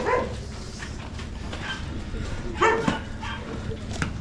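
Dog barking and yipping in short bursts at a rural Tarlac work site, moderately close, mixed in with background chatter and noise.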